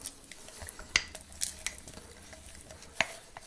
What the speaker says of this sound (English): that's what happens when you mix peanut butter with molasses